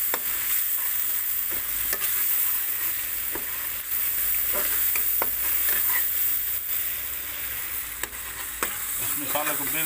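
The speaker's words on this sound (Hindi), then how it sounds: "इस मसाले को बिल्कुल यकजान करना है" Spice masala of turmeric, coriander and red chilli powder fries in a pan for a spicy fried eggplant dish, steady loud sizzling with repeated scraping taps of a spoon stirring, no talking.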